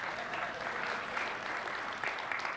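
Distant, fairly faint clapping from a small group in the audience of a keynote session at a large tech conference. The applause stays steady and low throughout, with no voices over it.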